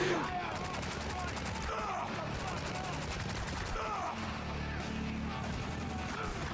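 Gunfire in the war shooter Spec Ops: The Line: a dense, loud stream of rapid shots and bursts runs without a break for several seconds, with faint voice sounds mixed in.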